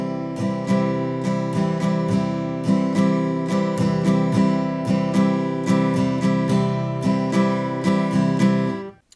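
An acoustic guitar strums chords for Deck the Halls in a steady alternating down-up pattern, close and clear, with no voices over it.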